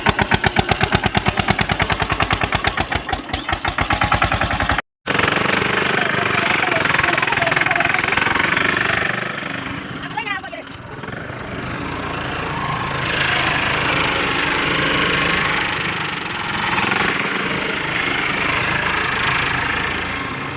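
A farm tractor, out for sowing jowar, idles with a rapid, even chugging of engine pulses, followed by a rougher, steady rumble, close by, while people talk over it.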